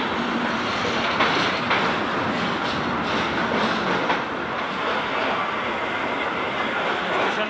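An express train bound for Dibrugarh rolls steadily through an Indian railway station, with a continuous loud rumble and clickety-clack of wheels over rail joints. No one speaks, and the noise fills the clip from start to end.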